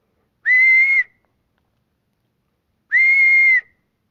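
A person vocally imitates the scale quail's mating call, a 'whawk': two matching nasal, whistle-like calls about two and a half seconds apart, each roughly half a second long, clear and close with silence around them.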